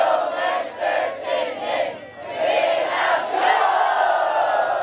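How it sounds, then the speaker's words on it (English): A crowd of aid-program participants in a disaster-recovery community cheers together, a loud sustained roar of many voices rising and dipping in several swells. "This cheer motivates hearts and marks the first step out of despair."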